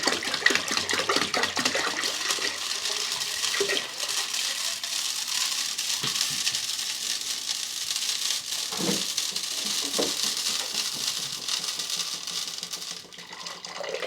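Water from a gallon jug pours steadily into a 3-gallon fish tank, a continuous splashing gush that runs nearly the whole time and thins out at the very end.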